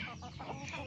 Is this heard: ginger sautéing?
no